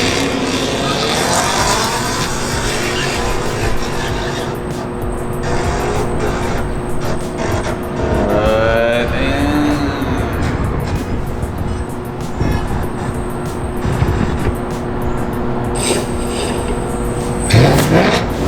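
A Ford Mustang driving, its engine a steady loud roar with a brief rising rev, heard close and continuous under background noise, with a sharp louder burst near the end.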